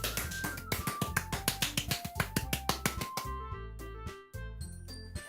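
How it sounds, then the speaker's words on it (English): Applause in the video game Doki Doki Literature Club is a quick run of crisp, evenly spaced claps over soft musical tones, fading into a few tinkling notes. "The four of us applaud."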